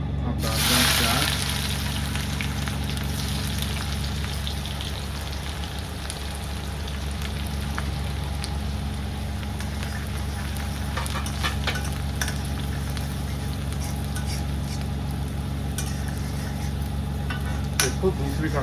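Sliced onions sizzle in hot oil with cumin and asafoetida in a kadhai, a steady loud crackling fry running throughout with occasional clinks of stirring.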